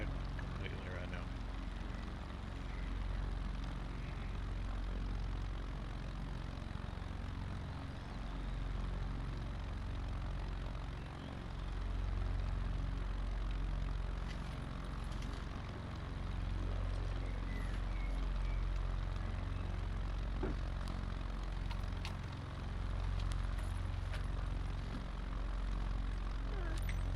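Propeller plane engine idling in Microsoft Flight Simulator 2024, a steady low drone with a deep rumble holding evenly throughout, with faint cockpit noise.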